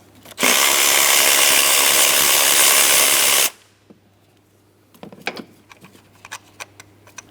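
A power tool whirs at a loud steady pitch for about three seconds as it backs out the 10mm bolt holding an ignition coil on a 2003-2007 Cadillac CTS 3.6L V6. Quiet clicks and small handling knocks follow once it stops.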